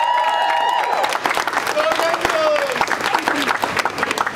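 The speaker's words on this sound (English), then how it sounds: "can we have a round of applause for all them?" An audience at a youth climate-conference gathering in Durban claps and cheers together, a dense wash of hand claps running for a few seconds and tapering off, with a voice and some tonal sounds mixed in near the start.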